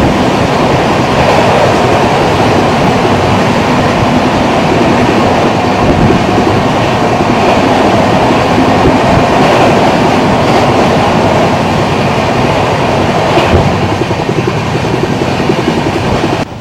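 Howrah Barbil Jansatabdi Express running through Panskura station, a loud steady rumble and rattle of wheels on rails heard from inside the coach, with no voices.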